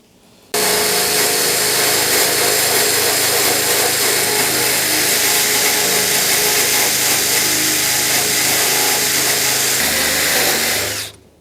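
Power tool grinding paint off the holes in a Mini Cooper body panel, a loud steady whirring drone that starts abruptly, runs continuously for about ten seconds, then cuts off.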